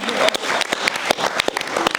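An audience at a London film screening Q&A gives a brief round of applause, with dense, steady clapping from a nearby crowd throughout.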